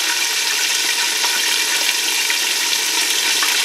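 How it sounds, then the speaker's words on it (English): Steady, dense sizzling and crackling of chicken frying too hard in hot oil in a cast iron skillet, continuous and loud throughout with no talking. "that sounds like it's frying a little too hard"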